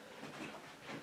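A small model train rumbles along the track nearby, with a soft rhythmic clatter and a steady hiss.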